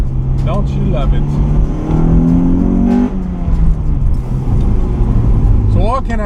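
A Honda Integra Type R with a swapped engine, heard from inside the car, pulling hard through a loud rising engine drone that climbs, shifts and climbs again, with people talking over it.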